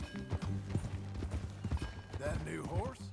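Horse hooves clip-clop in a rhythmic galloping beat through Red Dead Redemption 2, loud and close, with a low rumble and a brief whinny-like tone near the end.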